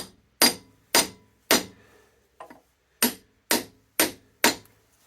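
A brass chisel gently tapping a Colchester Triumph 2000 lathe spindle during restoration: eight sharp metallic knocks at an even pace with a short pause midway, close and clear.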